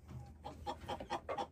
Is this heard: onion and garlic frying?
no